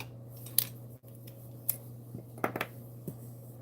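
Scissors snipping during card making, a few short crisp cuts scattered over a steady low room hum, close and fairly quiet with no talking.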